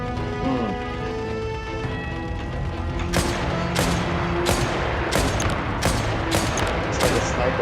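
Sniper rifle shots in Genshin Impact, about six sharp loud cracks at roughly even intervals after a stretch of music and game effects, with voices in the background.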